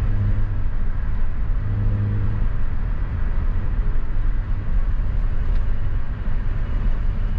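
A BMW 320i E36 coupe with a 2-liter 150 hp engine drives through the city in fifth gear at low revs. A steady low engine drone and road rumble fill the cabin, even and continuous, with no voices.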